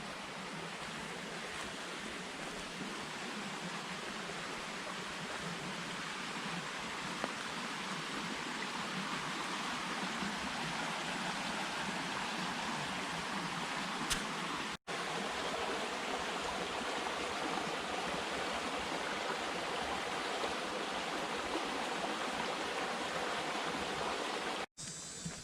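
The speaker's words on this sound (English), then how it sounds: "But I heard the rushing water, so I wanted to check it out." A stream rushes through Alafia River State Park, just off a hiking trail. It makes a steady, close broadband roar of flowing water that stays even throughout, with no voices.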